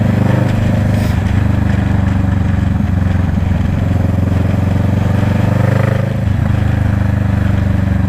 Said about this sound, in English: Hope you can hear me over this exhaust